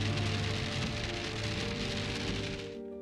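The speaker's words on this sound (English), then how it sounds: "It's raining, finally" Steady rain falls on a forest campsite in Stanislaus National Forest, a dense, even hiss of drops pattering on surfaces, close and constant before tapering off abruptly at the end.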